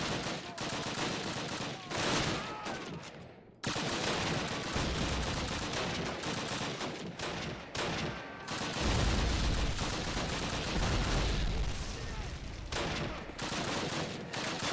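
Dense, sustained gunfire from Call of Duty on Veteran difficulty, bursts of automatic fire and shots crowding together almost nonstop with short gaps, loud and close, with occasional voices underneath.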